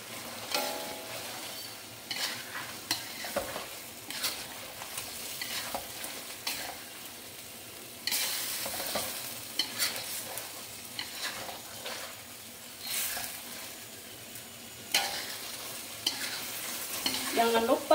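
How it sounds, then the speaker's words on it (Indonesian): Eggs crack into a hot pan for balado and fry with a steady sizzle, broken by repeated scraping and stirring strokes, near and fairly loud, with no talk. "Sekarang saya akan taruhin telurnya."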